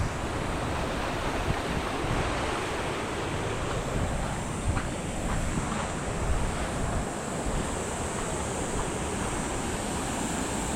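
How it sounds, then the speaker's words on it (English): River water pours steadily over a low dam on the Rio Grande at Radium Springs, a constant broad rush of falling water mixed with some wind buffeting on the microphone, with no voices. "this dam just lets it go over really slowly"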